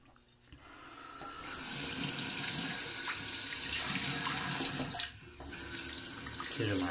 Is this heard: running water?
yes